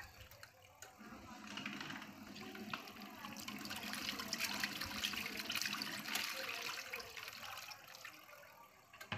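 Water sloshes and gurgles in the small tub of a mini washing machine about the size of a rice warmer as it is drained and refilled for rinsing. The splashing and pouring stay soft and continuous throughout.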